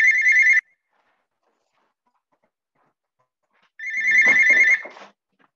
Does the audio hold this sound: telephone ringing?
yes